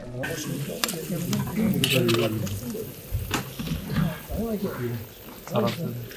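Jizbiz meat fries in a large cauldron, sizzling loudly while being stirred, with scraping and bubbling up close and someone speaking over it.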